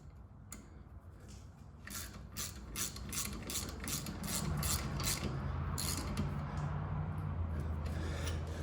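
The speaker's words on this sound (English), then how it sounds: "you grab it with a wrench and you tighten it up" Ratcheting wrench tightening 17 mm and 14 mm brake caliper bolts on a 2017-2018 Kia Forte front brake, a steady run of close mechanical clicks that grows slightly louder and more continuous toward the end.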